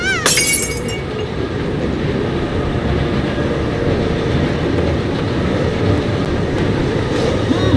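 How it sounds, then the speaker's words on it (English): A train rolling on rails in the video game Forgotton Anne, a loud, steady rumble of wheels throughout, opening with a brief sharp metallic screech. "Two rebels have dismantled the brakes and jumped off the train."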